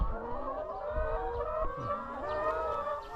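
Poultry house on a Thai farm with roughly 250 laying hens, a radio playing music to them; several hens cluck and call continuously and fairly close, overlapping at moderate loudness.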